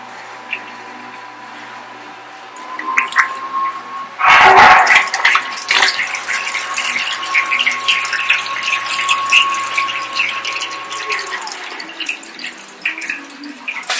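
Water pumped into a home brewing system: a steady mechanical hum from the pump with a burst of rushing, splashing water partway through, then continuous trickling flow until the hum cuts off near the end.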